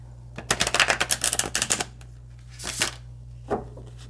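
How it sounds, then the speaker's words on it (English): A quick flurry of crisp tarot card riffles and taps, then a pause and two softer shuffling rustles, close and clear with no talking. "while I shuffle and pull cards"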